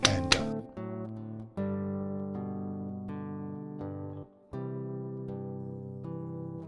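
Fingerstyle classical guitar playing sustained melody notes with a gently wavering vibrato, several held tones separated by brief pauses, close and quiet, heard alone.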